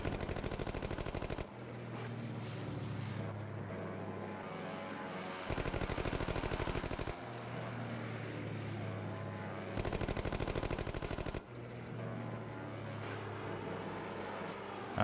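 Enemy gunfire in a video game, rapid machine-gun bursts that cut in and out in repeated blocks between quieter stretches of engine-like rumble, fairly loud against a low background.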